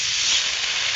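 Water poured onto chilli and turmeric frying in oil bursts into a loud, steady steam hiss that holds at full strength for about a second, with no talking.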